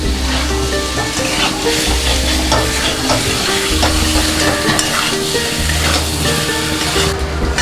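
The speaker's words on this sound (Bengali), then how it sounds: "নাড়তে নাড়তে কাঁচা গন্ধটা যখন দেখবো চলে গেছে" Potatoes frying in a pan with cumin paste, stirred steadily: a continuous loud sizzle with scraping spoon strokes throughout, no voices.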